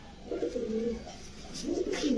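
A large pigeon coos in low, throaty rolling phrases, two or three swelling calls close by, with a faint brighter flutter or chirp in between and no talking.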